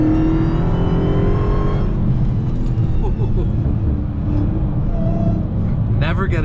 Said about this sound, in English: hear a Hellcat with supercharger whine